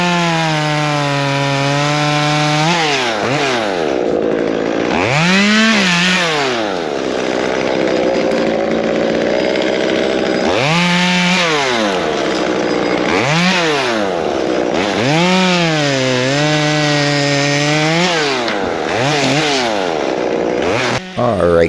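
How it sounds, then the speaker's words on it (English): A Stihl 194T chainsaw with a SpeedCut Nano bar cuts through medium to small wood in repeated bursts, the engine revving high and dropping between cuts in a loud, close rhythm, with occasional talk. "right now we're running the 194T with the SpeedCut Nano. We're going to be cutting some medium to small size stuff"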